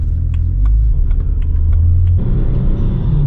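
A BMW E90 335i shifted into first gear, its engine giving a loud, close, steady rumble from inside the car that deepens and shifts partway through, with some light clicks early on.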